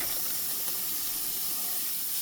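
Onion paste hitting hot oil in a pan where fish was being fried, giving a steady, loud hiss that holds evenly throughout without pause.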